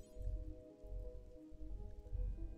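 Soft, steady rain patters through the RimWorld game, quiet and even, under a low sustained musical hum with no voices.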